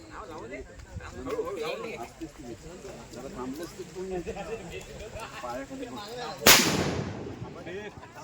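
A single firecracker bangs sharply near the end amid a one-and-a-half-day Ganesh immersion procession outdoors in Talewadi, a Konkan village, with people chanting and talking throughout.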